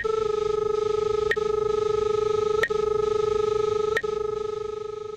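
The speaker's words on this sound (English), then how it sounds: "The audio pitch is tied to the proximity signal." SR-20 line locator emitting its audio feedback tone, a steady electronic whine with harmonics broken by three evenly spaced sharp clicks, continuous and clear with no talk.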